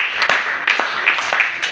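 A church congregation claps for Jesus in a short burst of uneven, scattered hand claps, fairly close and loud, with no talk over it.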